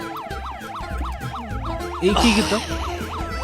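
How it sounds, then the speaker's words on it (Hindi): A police siren wails in a fast, regular rising-and-falling pattern, fairly loud and close, while people talk over it partway through. "एटा को पुलिस साइरन भले सुबुची हाँ"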